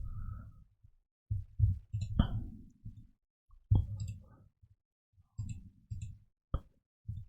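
Computer mouse clicking while working in a design app: scattered sharp clicks and soft taps, near and faint, spread out among quiet pauses with some low rustle between them.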